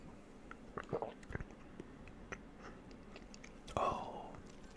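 Close, quiet sipping and mouth sounds while tasting Carambar caramel syrup mixed with milk, with soft lip smacks and swallows, then a brief louder breathy sip or exhale near the end.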